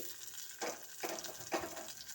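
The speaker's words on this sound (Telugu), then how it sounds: "దీనికి తాలింపు కొంచెం ఆవాలు జీలకర్ర ఒక ఎండుమిరపకాయ" Mustard seeds, cumin and a dried red chili tempering in hot oil sizzle faintly, with three louder bursts of crackle and stirring spaced about half a second apart.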